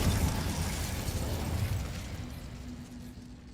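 Incendio fire spell cast in Hogwarts Legacy, a broad burst of noise that fades over a few seconds, ending with a faint steady hum.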